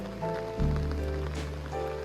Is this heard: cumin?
no